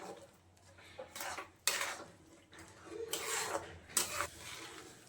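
A spoon scrapes and knocks against a pot of kheer, thickened milk pudding, as it is stirred over a low gas flame. It gives a few separate, close rasping strokes over a quiet background.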